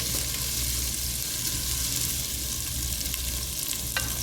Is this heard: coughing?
no